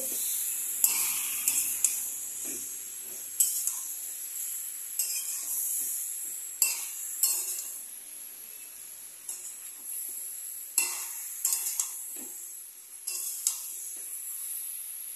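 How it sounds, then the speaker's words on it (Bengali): Pickle being stirred in a pan after turmeric powder goes in, giving a steady soft hiss with repeated scraping strokes of a utensil against the pan, at a moderate, fairly quiet level. "হলুদ গুঁড়ো দিয়ে একটু নাড়াচাড়া করে দিচ্ছি"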